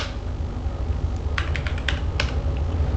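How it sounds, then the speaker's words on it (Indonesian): Quick bursts of typing on a computer keyboard, a handful of crisp key clicks close up over a steady background hum, no one talking. "Kita ketik dulu."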